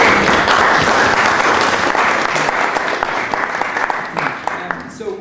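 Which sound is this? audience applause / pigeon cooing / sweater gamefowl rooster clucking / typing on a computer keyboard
audience applause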